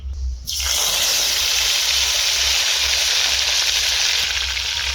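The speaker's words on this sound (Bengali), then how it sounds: "তেল গরম হয়ে গিয়েছে এ পেঁয়াজ বাটা দিয়ে দেবো" Onion paste hits hot oil for a Digha-style crab curry, bursting into a loud, steady sizzle that starts abruptly and holds strong and close for several seconds.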